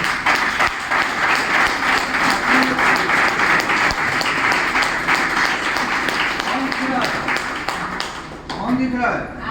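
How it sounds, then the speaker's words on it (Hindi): Audience applause at a live event in India, a dense steady wash of clapping filling the room for several seconds before thinning out near the end, with voices mixed in underneath. "एक बार जोरदार ताली।"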